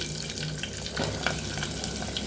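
Chopped onions frying in hot oil with cumin and curry leaves, a soft even sizzle close by with faint stirring scrapes, no talking.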